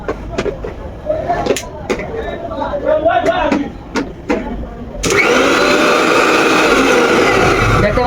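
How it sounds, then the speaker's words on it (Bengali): A repaired blender motor switches on and runs with a steady, loud high whir, following a stretch of someone talking over tapping and handling noises. "এখন আমি দেখি ব্যান্ডার মেশিনটা চলে কিনা"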